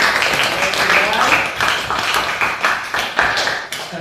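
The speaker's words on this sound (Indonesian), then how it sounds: "Tepuk tangan untuk kita semua." Classroom group of teenagers and a teacher clapping hands together for several seconds, steady dense clapping with some irregular louder claps, close and fairly loud, with faint voices mixed in.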